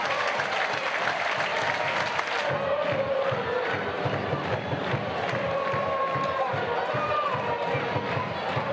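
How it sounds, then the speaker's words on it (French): Stadium crowd applauding at halftime of a women's football match between Girondins de Bordeaux and VfL Wolfsburg, sustained clapping and murmuring with scattered cheers and voices mixed in. "merci d'applaudir les deux équipes"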